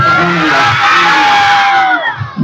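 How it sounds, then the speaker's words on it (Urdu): A large crowd at a madrasa gathering in Karachi roars together in a loud, sustained chant of Subhan Allah, voices massed and cheering for over two seconds before tailing off. "بلند آواز میں کہیں سبحان اللہ"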